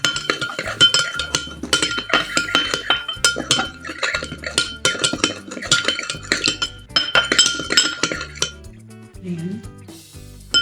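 Metal utensils clink against a bowl while lemon salad is tossed with olive oil, a steady run of bright scraping taps for about eight seconds, then a brief quieter pause with a soft murmur near the end.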